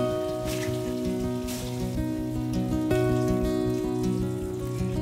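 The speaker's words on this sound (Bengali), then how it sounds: "এবার ভালোভাবে পটলগুলো ভেজে তুলে নেব" Pointed gourd (potol) frying in mustard oil over a medium gas flame gives a loud, dense, continuous sizzle close by, steady for several seconds with no talking.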